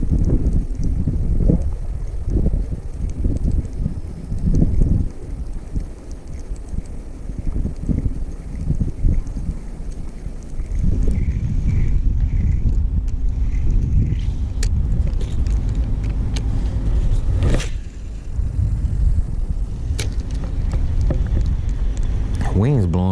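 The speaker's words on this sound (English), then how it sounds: "Wind's blowing pretty good." Wind blowing steadily at a lakeside park during bank fishing, a continuous low rumble and microphone buffeting throughout, with gusts strengthening in the second half and a person talking over it.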